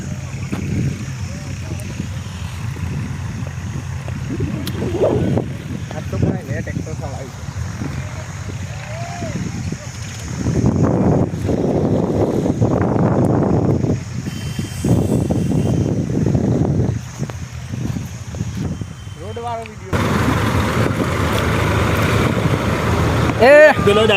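A tractor engine runs steadily with a continuous low, rough rumble that stays loud throughout, while people talk over it.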